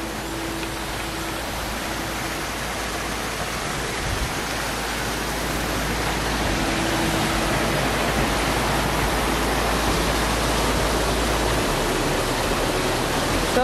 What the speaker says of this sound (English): cute little waterfall